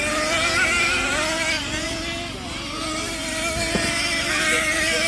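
Slash 2WD nitro RC trucks racing around a Die Hard RC track: a continuous, loud, high-pitched buzzing engine whine from several small motors, rising and falling slightly as they lap together.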